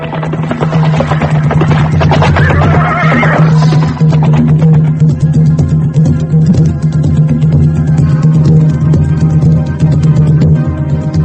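Horses neigh and whinny loudly and close by, with riders urging them on amid a dense, steady din of hooves and movement throughout, in a historical radio drama scene.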